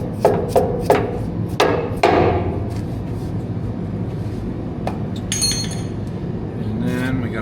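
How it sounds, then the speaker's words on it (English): A large hammer strikes a part into place while new hydraulic lines are fitted to a vehicle, giving several sharp metallic taps close by in an irregular burst, followed by quieter clinks and someone speaking. "Couple little taps and that will probably drop in there."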